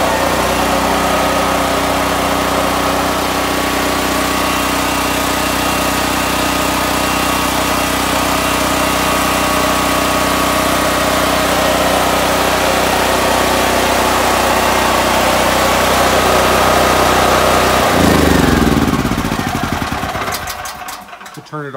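DuroMax XP13000EH generator running on propane from a 250-gallon tank, a loud steady engine drone that holds for about eighteen seconds before winding down and stopping.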